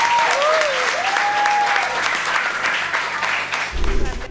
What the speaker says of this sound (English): Let's clap for them, ladies and gentlemen.